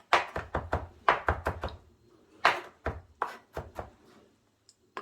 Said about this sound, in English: I'm just going to smash these and chop them up